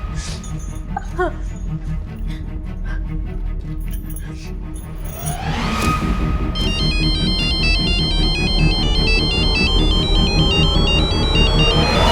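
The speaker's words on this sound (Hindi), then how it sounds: "मेरा फोन मिल नहीं रहा है, प्लीज मेरे फोन पे रिंग करोगी क्या?" A mobile phone ringtone plays a bright, repeating electronic melody that starts partway through and continues to the end, loud and close, with people talking underneath.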